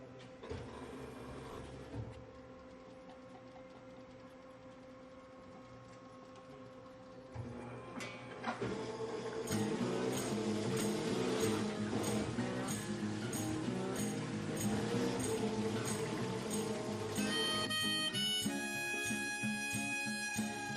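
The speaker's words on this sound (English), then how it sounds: "This particular machine is our H85AX, so it has hold-to-hold capabilities. So the machine will go from cylinder to cylinder without operator assistance." Sunnen-style H85AX cylinder honing machine automatically honing engine cylinders to a 4-inch bore at an engine expo: a steady mechanical whine and hum that grows fuller and busier with rhythmic clatter midway, continuous and fairly loud, with faint voices in the hall.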